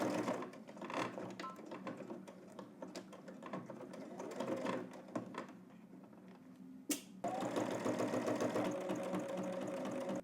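Sewing machine top stitching fabric, running in bursts of rapid rhythmic needle clatter with a brief pause and a sharp click near the middle before stitching resumes steadily, close and fairly quiet.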